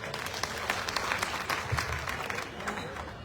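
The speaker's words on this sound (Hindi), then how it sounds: "तालियां जोरदार बजाइए," An audience at a political gathering in India applauds, a dense, steady wash of many hands clapping from a moderate distance, with a voice murmuring faintly beneath it.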